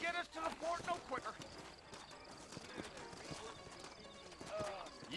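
Horses clip-clop along in the western video game Red Dead Redemption, set in New Ulster, with a steady rhythm of hoofbeats under game ambience and occasional louder clops.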